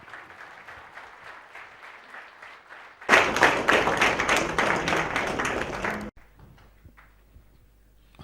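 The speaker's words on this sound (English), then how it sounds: "Round of applause for the Khadar sir." Audience on a corporate campus applauding a guest speaker on millets; light scattered clapping gives way to a sudden loud, dense burst of applause for about three seconds, which cuts off abruptly into quiet room tone.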